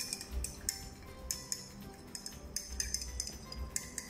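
A glass rod stirs salt water in a small glass beaker, giving repeated light clinks and taps spread unevenly through the stretch, fairly quiet and close with no talk.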